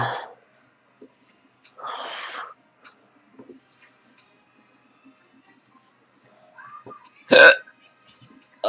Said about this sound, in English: Ugh, hiccups.